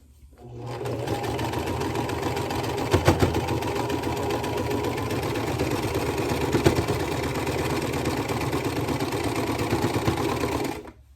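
A sewing machine stitches the seams of a fabric gnome accent piece, running in one steady, even whir for about ten seconds after a brief start, close and loud with no talking.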